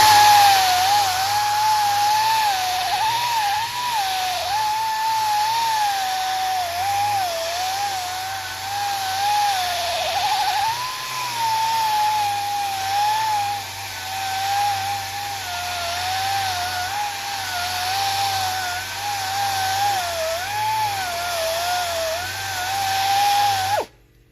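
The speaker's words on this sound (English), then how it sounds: "So let's see if this will sand down fast or not." Power sander grinding steadily across a swollen, overly thick wood panel of a Solar Fox arcade cabinet under restoration, a loud continuous whine with slight wavering pitch that cuts off abruptly at the end.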